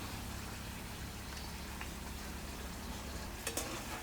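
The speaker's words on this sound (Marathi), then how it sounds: "आपल्याला पलटी करून करून सगळी बाजूनं तळून घ्यायचं" Puris deep-frying in hot oil, a soft, even bubbling hiss heard at low level throughout, with a couple of brief clinks near the end and no talk.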